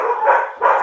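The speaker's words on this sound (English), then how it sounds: "my dogs are being really loud right now" Dogs barking indoors, two loud, close barks in quick succession with a short gap between them, heard alone without talk.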